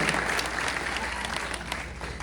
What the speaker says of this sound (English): Give a round of applause for all three of our neighbors who were brave.